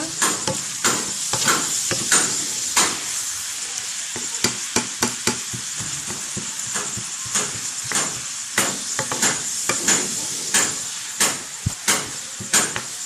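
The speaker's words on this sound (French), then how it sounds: "Nous laissons un peu cuire notre sauce." Tomato sauce simmering in a pot for a Congolese plantain stew, a spoon scraping and tapping against the pot in quick irregular strokes over a steady low sizzle, close and moderately loud, with no talking.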